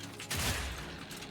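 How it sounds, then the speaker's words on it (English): Shock grenades from an elemental mercenary go off in the Atlas video game, as one sudden crackling burst that fades into a lingering rumble, with no talking. "It's kind of cool to be able to like just sort of unload the shock grenades"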